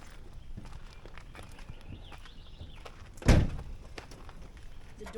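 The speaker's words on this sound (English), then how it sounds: "Doors open and close nicely." A car door on a 1967 Plymouth Valiant 100 shuts with a single solid thunk, preceded by faint handling and shuffling sounds nearby.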